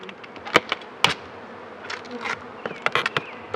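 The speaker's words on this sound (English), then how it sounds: "there's quite a few bees in there" A honeybee swarm being installed in a new beehive buzzes steadily, with individual bees zipping loudly past close by over a low hum.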